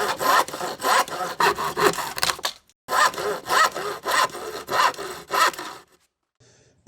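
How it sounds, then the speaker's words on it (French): A hand saw cuts through a clamped wooden plank for a birdhouse in steady rhythmic strokes, each rasping pass loud and close, with a short pause mid-cut before sawing resumes and then stops. "on place les serre-joints et on commence à scier"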